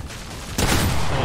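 Fortnite gunfire erupts in a 1v1 fight, a sudden loud burst of shots cutting in halfway through a short moment and continuing as dense rattling fire.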